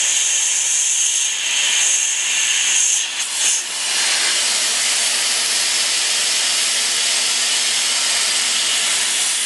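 Compressed air from an air compressor hisses in a loud, steady broadband rush close by, with a brief dip partway through before it carries on unbroken.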